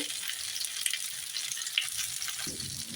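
Appe batter dumplings sizzle and crackle in a pan as they crisp, a soft continuous frying hiss with light clicks of the pieces being flipped, fairly faint and without talk.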